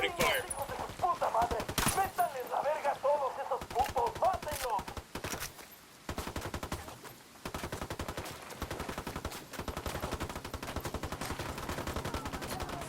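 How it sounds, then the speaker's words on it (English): Repeated bursts of automatic gunfire in Ghost Recon Wildlands, rapid rattling volleys near and loud throughout, with short pauses and background game sounds between them. "Opening fire."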